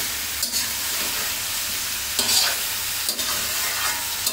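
Beef frying in a large wok over medium heat, a steady close sizzle with a few sharper scraping clatters as the meat is stirred, no voices.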